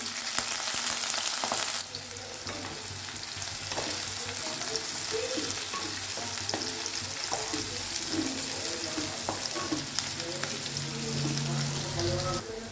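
Chopped medium onions and whole garam masala fry in hot oil, a steady close crackling sizzle that settles after a brief louder burst at the start, with faint stirring and no speech.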